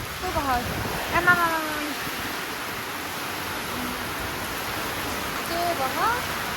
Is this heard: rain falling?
yes